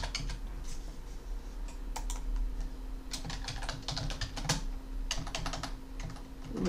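Typing on a computer keyboard while writing in Microsoft Word, with quick irregular key clicks in short bursts and pauses, fairly close and alone over a low steady hum.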